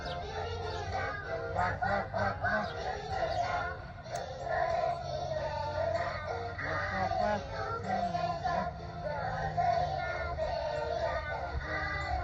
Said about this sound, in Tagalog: Look at the big bird.